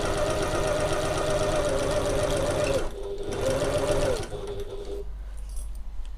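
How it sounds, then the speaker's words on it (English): Up close, a sewing machine stitches along the top of a main panel through several layers of fabric, whirring in fast, steady runs with a short break, then slows and stops near the end. "I'm going to sew the entire top of this main panel through all of these layers the whole way along."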